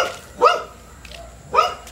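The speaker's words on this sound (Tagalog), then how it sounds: "Ayan, malaking aso." A large dog barks twice, a pair of sharp, separate woofs about a second apart, fairly close and alone with no talk over them.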